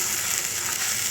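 Onion paste fries over high flame in a pan, a steady close sizzling hiss that holds even and unbroken for the brief moment.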